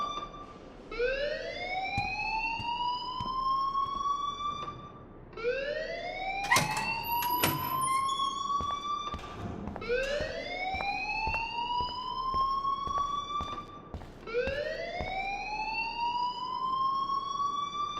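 A school alarm in the Life Is Strange video game wails loudly in repeated rising sweeps about every four seconds, steady and continuous, with no voices.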